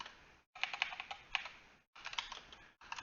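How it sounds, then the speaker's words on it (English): Quick keystrokes clatter on a computer keyboard in dense bursts broken by short pauses, close and fairly quiet, with no voices. "I wish I didn't have to keep typing this."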